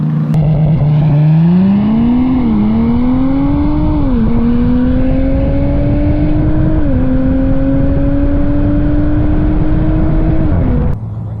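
A stock BMW with an S55 engine racing and spinning its wheels, the engine held loud and close, its pitch rising steadily through several gear changes before cutting off sharply near the end.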